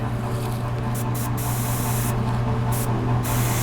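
Airbrush spraying flesh and hair base-coat paint onto a figure, a steady close hiss of compressed air with a constant low hum underneath and brief bursts where the spray opens and cuts off, no talking.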